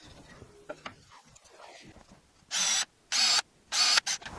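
A drill boring holes through a wooden box held in a vise with a drilling jig, heard as four short, loud bursts of whirring drilling in quick succession after some quiet handling noises.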